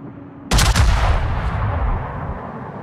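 The battleship Fuso fires a heavy main-battery salvo in World of Warships: a sudden loud blast after a short quiet, with a few rapid cracks and then a long rumbling decay.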